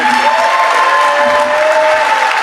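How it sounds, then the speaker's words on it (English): A crowd at a youth football championship ring ceremony applauds and cheers, a loud continuous wash of clapping with whistles or cheers on top and no clear talking. "let's get one last applause for your 2024"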